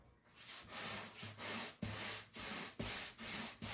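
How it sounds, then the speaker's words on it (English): Wood is sanded by hand with a felt sanding block in steady back-and-forth strokes, about eight rhythmic rasping passes, close and fairly quiet. "I might sand it down like this"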